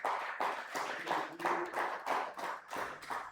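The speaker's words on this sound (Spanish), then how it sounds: "Damos un fuerte aplauso al Señor" A church congregation claps in a rhythmic, fairly quick pulse of roughly three beats per second, moderately close but not loud, with no talking over it.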